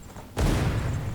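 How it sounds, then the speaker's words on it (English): Sudden loud explosions in a video game burst in after a quiet moment, then roll on as a dense, sustained boom and rumble with no talking. "Explosions, bam!"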